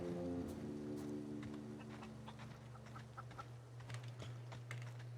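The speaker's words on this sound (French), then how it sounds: "Ouais, une poule." A chicken clucks in the video game The Outer Worlds, a few short clucks and scratchy calls over a steady low hum of game ambience and music.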